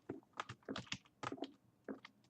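Computer keyboard keys clicking during a Minecraft game, a quick irregular burst of crisp, close taps and clatters, faint overall and with no talk.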